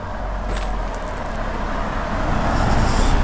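A car drives past on a village road, a steady rumbling road and engine noise that builds slightly toward the end, heard close and with no talk.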